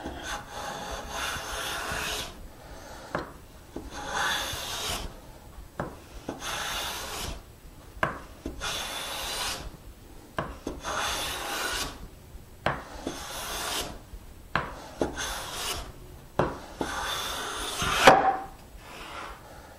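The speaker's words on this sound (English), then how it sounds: "with our mouth nice and tight, we'll go ahead and take a few test shavings, see how she performs" A hand bench plane with a tightly set mouth takes test shavings from a wooden board in repeated long swishing strokes, roughly a dozen evenly paced passes with short pauses between, close and clear with no speech.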